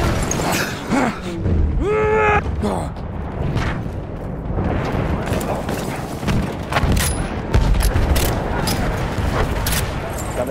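A grenade blast and gunfire in a combat video game, with loud booms and rapid shots running continuously under battle noise and bursts of shouted talk.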